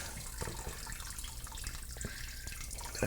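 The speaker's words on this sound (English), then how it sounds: "Let it drip for a minute." Wort drips and trickles steadily from a lifted grain bag into a brewing pot while an American brown ale is made at home, a close, continuous watery patter.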